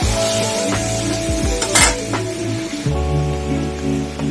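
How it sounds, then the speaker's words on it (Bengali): Mustard-poppy paste is stirred into a bubbling fish curry gravy, giving a busy mix of simmering crackle, utensil scrapes and clinks with a steady background hum, and no voices. "সর্ষে পোস্ত বাটাটা দিয়ে দিলাম। ঝোলটা ফুটে গেছে"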